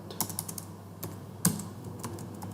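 Keys clack on a computer keyboard as city names are typed, a handful of sharp, close, irregular clicks with one louder strike, over a quiet room background.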